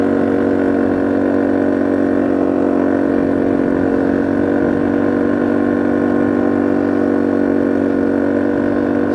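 A quad bike engine drones steadily and loudly while being ridden, a constant close mechanical roar that never lets up.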